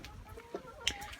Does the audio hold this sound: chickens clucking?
yes